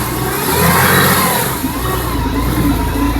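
A Mercedes-Benz AMG CLK GTR Roadster's exposed V12 runs steadily nearby after a cold start, giving a loud, continuous engine drone with a slight swell early on and no voices.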